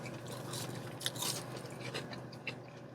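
Close, loud chewing of a Burger King Italian chicken sandwich, with bites and soft crunches of bread and breaded chicken in an irregular rhythm and no talking.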